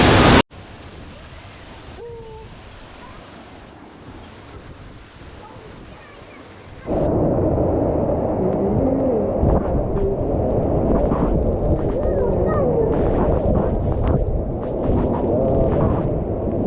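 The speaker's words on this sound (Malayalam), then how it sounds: "ഇവിടെ മൊത്തം ഭയങ്കര വെള്ളച്ചാട്ടത്തിന്റെ അടിയിലാണ് നമ്മൾ നിൽക്കുന്നത്." A roaring waterfall at Paddys River Falls in Australia, heard from beneath the falls: a dense, loud, steady rush of crashing water that swells sharply partway through, with wind buffeting the microphone and no speech.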